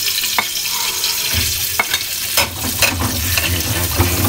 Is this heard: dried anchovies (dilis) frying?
yes